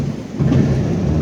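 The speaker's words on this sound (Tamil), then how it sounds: "மழை பெய்யுறாங்க." Steady rain heard during a rail trip, a continuous close wash of rainfall with low rumbling noise underneath, swelling slightly partway through and holding even to the end, with no voices.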